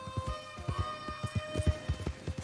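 Rapid, steady clip-clop of horse hooves at a running gait in Red Dead Redemption 2, fairly close, over a faint background hum.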